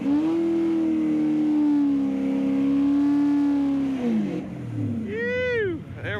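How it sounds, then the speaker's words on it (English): A drag car, a Ram truck with a 454, does a burnout at Paradise Dragway's uphill eighth-mile strip, a loud sustained engine drone holding pitch then dropping and rising again as the revs change. "Here we go, first burnout."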